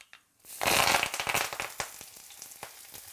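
Onions hit hot oil with a sudden loud sizzle, then settle into steady crackling and popping spattering close by.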